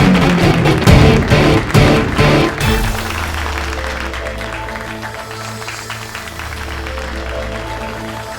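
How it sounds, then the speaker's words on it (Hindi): Audience applause at a staged competition show, a burst of clapping and cheering that fades after a few seconds into music and background sound. "इनके मुकाबले के लिए जोरदार तालियों से स्वागत करें।"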